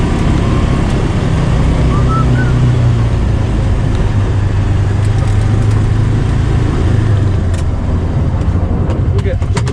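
A Kubota Sidekick 850 utility vehicle drives along on a sunny day, its engine and drivetrain giving a steady, close mechanical drone with a few faint clicks and knocks near the end.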